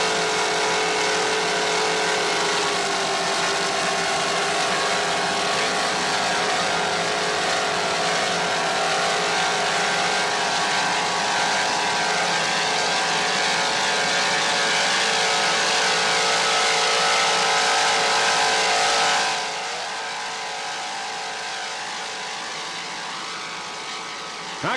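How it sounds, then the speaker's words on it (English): A 32-foot Mirage offshore racing powerboat with twin 650 hp inboards on Mercury drives roars past at an offshore grand prix, a loud sustained engine drone that drops off abruptly near the end. "Zool inboards doing their job, two 650 horsepower with Mercury drives."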